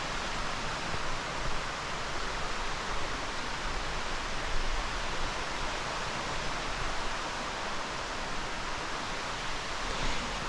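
A waterfall near Lake Kawaguchi in Japan gives a steady, full roar of falling water that stays even and close for the whole stretch, with no voices over it.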